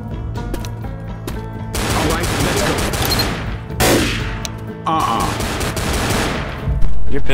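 Rapid gunfire in the video game Left 4 Dead, loud bursts of automatic weapon fire stacking into dense fusillades with short gaps between volleys, with a player's voice briefly heard among the shots.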